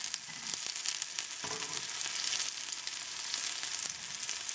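Falafel patties frying in hot oil as the last three of a batch cook, giving a steady, close hiss of bubbling oil with a few louder crackles and no talking.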